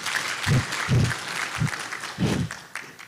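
A conference audience claps for partners at an Authorized Economic Operator event, the applause moderate and scattered, with a few heavier low thumps breaking through the clapping.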